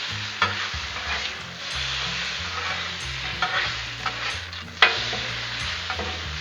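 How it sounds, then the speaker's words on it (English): Thin shaved ribeye steak sizzles on a Blackstone griddle, a continuous close hiss broken by sharp spatula scrapes and clanks on the metal surface, with a low hum underneath. "That thin shaved ribeye cooks quick."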